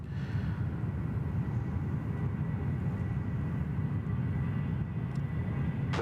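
A Qantas Freight aircraft arriving at Sydney Airport, a steady, heavy low roar of jet engines that holds loud and continuous throughout, heard from outdoors at a distance.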